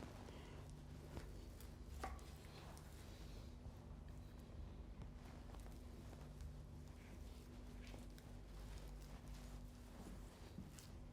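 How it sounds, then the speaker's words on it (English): A knife cuts between the ribs of an aged beef forerib to separate Cote De Boeuf steaks, giving faint, irregular cutting and knocking sounds over a quiet background. "So you should be able to just cut your Cote De Boeufs between the ribs."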